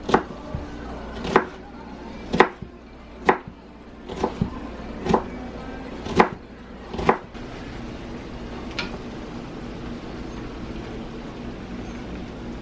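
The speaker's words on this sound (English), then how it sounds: "now's a good time to cut the onion and the garlic." A knife chops onion and garlic on a cutting board in about eight sharp, separate strokes, close up, followed by a few seconds of quiet room tone.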